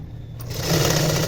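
An electric sewing machine starts up and runs a fast, steady whir while stitching around the neck of a blouse, close and loud for a short burst.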